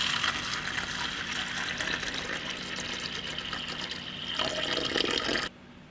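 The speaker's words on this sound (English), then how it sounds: "I'm just going to take my distilled water and pour it in." Distilled water is poured steadily into a cup for an emersed aquarium plant setup, a continuous close splashing gush that ends abruptly.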